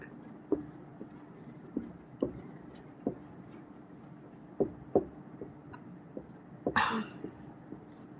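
A pen writes by hand in short scratchy strokes and taps, spread irregularly and close, during a live English grammar lesson, over a quiet room hum with a brief rustle near the end.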